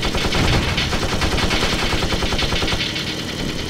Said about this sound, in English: Oh gosh, I'm just shooting.